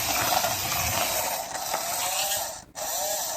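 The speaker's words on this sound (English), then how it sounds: "So we definitely got some problems in the gearbox. As you can hear, sometimes you can hear 1 motor, sometimes it's 2" Vintage toy RC car with two motors, one per rear wheel, and a faulty gearbox, giving a steady whirring, grinding mechanical drone with ratchety clicking and one brief dropout, close up and without talk.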